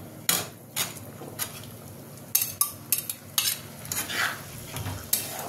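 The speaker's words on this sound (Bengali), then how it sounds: "ভাজা পনিরগুলো আমি দিয়ে দেবো এর মধ্যে।" Fried paneer cubes get stirred into a simmering masala gravy in a pan, with scraping spoon strokes and knocks against the metal over a low sizzle and no talking.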